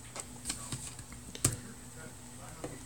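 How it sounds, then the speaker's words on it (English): Typing on a keyboard attached to an Acer Iconia One 10 tablet, giving a few soft, scattered key clicks at close range over a quiet background hum. "the keyboard is very responsive"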